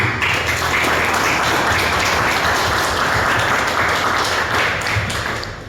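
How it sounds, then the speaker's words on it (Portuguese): A church congregation claps steadily in sustained, dense applause that holds at full strength for several seconds and eases off slightly at the very end. "Dê um aplauso ao Senhor Jesus"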